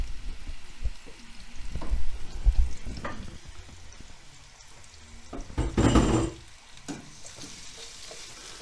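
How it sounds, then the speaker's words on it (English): Two bell peppers sauté in a pan with irregular sizzling and stirring scrapes, swelling in two louder bursts before settling into a quieter crackle. "now I'm going to saute these 2 bell peppers on a medium"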